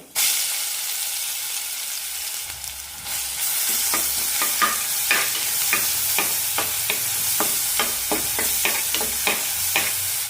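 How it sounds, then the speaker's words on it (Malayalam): Ginger garlic paste fries in hot oil with popped mustard seeds in a pressure cooker, a loud close sizzle hissing steadily throughout, broken by regular scraping strokes of a stirring spoon, with no talking. "കടുക് പൊട്ടിയാൽ ഇഞ്ചി വെളുത്തുള്ളി പേസ്റ്റ് ഇട്ട് കൊടുക്കാം"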